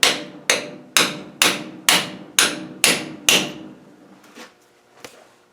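A 13/16 socket is hammered against a new front seal to drive it into a TDI VE injection pump, giving eight evenly spaced, loud, ringing metallic taps with a couple of softer knocks after them.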